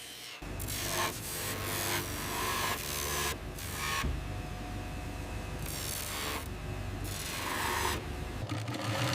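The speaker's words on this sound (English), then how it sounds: "The shearling panels are stitched with thick durable seams using heavy-duty sewing machine." A heavy-duty sewing machine stitches thick seams in sheepskin shearling leather, running in bursts, rapid mechanical clatter starting and stopping several times, close and steady with no voices.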